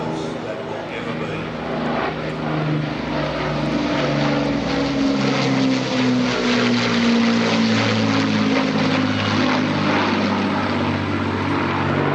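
Lancaster bomber with four 1,280-horsepower Rolls-Royce Merlin engines flying over an air festival, a droning propeller roar that swells and shifts in pitch as it passes, with a commentator speaking over it.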